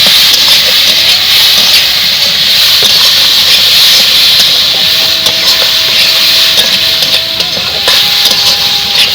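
Washed red lentils (masoor dal) fry lightly in hot oil with turmeric, making a loud, continuous hiss that runs unbroken throughout.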